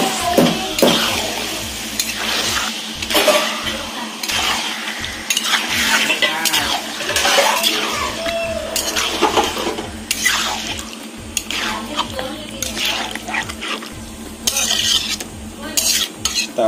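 A spoon stirs chicken biryani in a metal pot, scraping and clinking in steady repeated strokes over a soft sizzle, close and fairly loud throughout.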